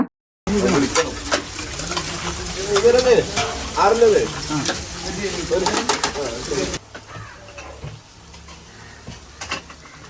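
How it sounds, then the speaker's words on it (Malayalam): Fish sizzles and crackles in hot oil on a wood-fired stove, a busy frying hiss with clinks and voices nearby, fading to a quieter stretch near the end. "വിറകടുപ്പിൽ ഇങ്ങനെ ഫിഷ് ഫ്രൈ ചെയ്ത് കാണാൻ നല്ല രസമുണ്ടായിരുന്നു"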